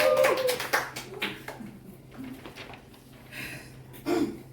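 A small Toastmasters club audience claps for a speaker, a short run of distinct hand claps at the start that thin into scattered, fainter claps.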